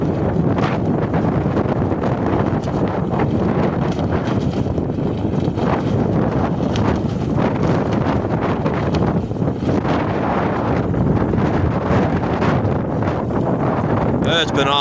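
Strong windstorm gusts buffet the microphone on a farm in a steady, loud, roaring rumble that never lets up, with rustling and flapping mixed in.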